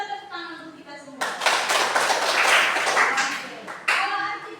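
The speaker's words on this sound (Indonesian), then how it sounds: "Kita tepuk tangan untuk kita semua." A classroom of students and their teacher break into group hand clapping, a dense, lively burst of applause lasting several seconds after a voice speaks at the start.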